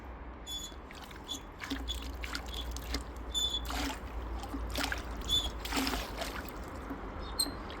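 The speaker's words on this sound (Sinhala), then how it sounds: "වතුර උඩට විදිනවා." Water trickles and spurts from a homemade low-cost wind turbine pump, with irregular splashing bursts close by at moderate level, running on steadily without speech.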